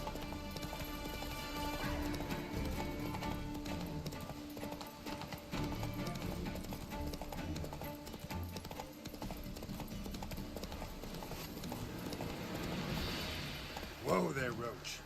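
Hooves of the horse Roach clip-clop steadily at a gallop in a video game, sitting under busy game music and effects, with a brief louder burst near the end.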